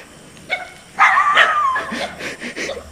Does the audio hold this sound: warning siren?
no